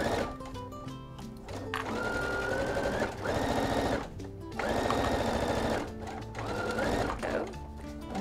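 A sewing machine stitching a zipper bag seam runs in several steady bursts with short pauses between, a close, fast mechanical whir.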